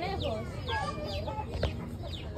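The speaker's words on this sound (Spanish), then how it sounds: "Mira pollitos, mamá, mira cómo se pierde" Chickens and chicks at a farm in a park in Guayaquil, with soft clucking and a run of high, rapid peeping chirps at close range, fairly quiet and continuous.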